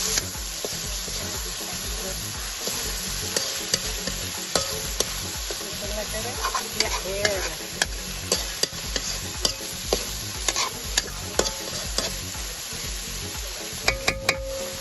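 Food sizzles steadily in a pan on a chulha stove as shrimp fry in masala, with scattered clicks and scrapes of stirring throughout; no one speaks.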